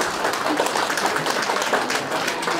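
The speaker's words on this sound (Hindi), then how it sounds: "आगे बढाइदिनु ताली।" Audience applause at a Nepali-language ceremony honouring a guest, dense steady clapping from a crowd that fills the whole stretch at an even, fairly loud level.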